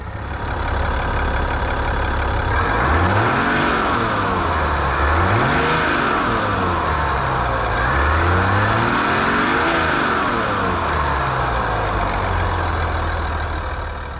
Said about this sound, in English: diesel sound inside the cab